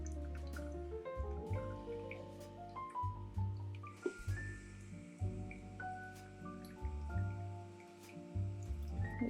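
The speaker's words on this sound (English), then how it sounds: "then we're going to pour the rest of our coffee, so 150 more, till we get to 500" Water poured steadily over coffee grounds in a V60 pour-over brewer, heard as soft wet dripping and trickling under louder background music.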